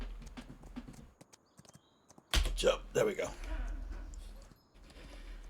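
Horse hooves clip-clop in Farming Simulator 2025 as a horse is ridden and exercised, the steady hoofbeats loud and close, with a thumping landing from a jump while a person talks briefly over the game sounds.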